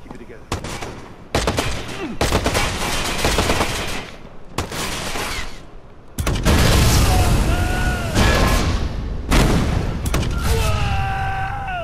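Repeated loud explosions and bursts of gunfire from grenade launchers in the Watch Dogs video game, dense and continuous over nearly twelve seconds, with some voice heard faintly among the blasts.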